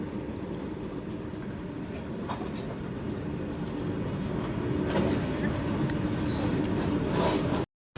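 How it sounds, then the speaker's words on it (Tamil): Goods train rolling past on the line from Palakkad toward Tamil Nadu, a steady close rumble of wagons for about seven seconds that swells slightly toward the end, with no talk over it. "கூட்ஸ் ட்ரெயின் பாருங்க, பாலக்காடுலேருந்து தமிழ்நாடுக்கு போகுது."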